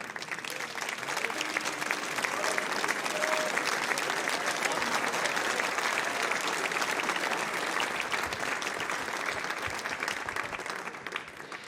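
Audience applause at the trophy presentation after the European Open Pool Championship final in Fulda, a steady, dense round of clapping from a large crowd that builds quickly and holds for over ten seconds.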